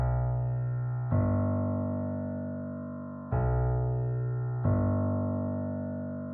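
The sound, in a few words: simple piano bass line stab, single note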